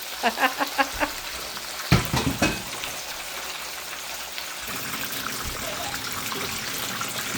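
Fish sizzles and crackles in a pan for brown stewed fish, with a few sharp spits and bursts early on, then a steady quieter hiss of frying close by.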